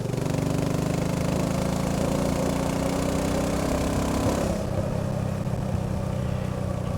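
A BSA Gold Star single-cylinder motorcycle accelerating from 40 to 60 mph in fifth gear, a loud, steady engine drone with deep pulsing thump, the pitch easing off slightly near the end.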